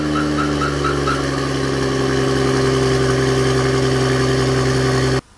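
A tuned car engine idling loudly and steadily up close, a constant rumbling drone with a faint rhythmic pulsing early on, cutting off abruptly near the end.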